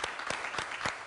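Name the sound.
applause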